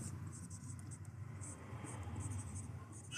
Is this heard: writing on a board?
yes